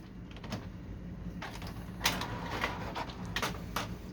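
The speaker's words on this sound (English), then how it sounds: "So it picked up the paper from the back tray very easily without any problems." A Canon Pixma TR7020 inkjet printer draws a sheet of photo paper from its rear tray, giving a series of soft mechanical whirs and brief clicks that come in separate bursts in a quiet room.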